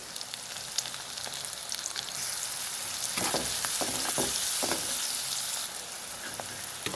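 Onions, dried red chilies and curry leaves sizzle and crackle in hot oil in a pan, a steady close frying hiss that swells louder midway, with a few stirring scrapes.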